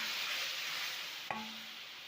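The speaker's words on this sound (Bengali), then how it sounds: "এবার আমি ওর মধ্যে ডালটা ঢেলে দেব।" Boiled moong dal poured into a pan of sizzling spice mix for a fish-head dal, a steady frying hiss broken by one sharp splash and a brief burst of louder sizzle, with no talk.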